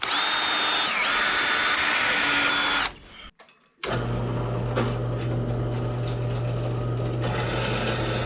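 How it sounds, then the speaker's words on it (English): A drill press bores holes in rear suspension parts for a 1962 Ford F600 truck, a loud steady whine that cuts out briefly, then resumes with a lower hum, close and alone without talk. "go down on the drill press and drill out the rest of the holes"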